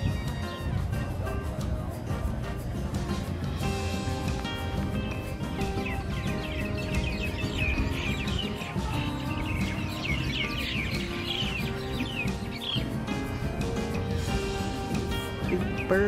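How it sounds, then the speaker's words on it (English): Birds chirp and twitter continuously at sunset around a marina, a dense chorus of quick calls carried over a steady low background rumble. "Birds are just chirping away."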